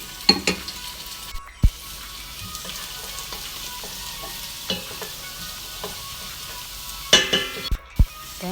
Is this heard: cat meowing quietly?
no